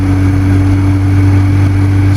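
A Volvo 240 engine running through a 2.5-inch exhaust, giving a loud, steady, close droning hum with strong low tones and no change in pitch throughout.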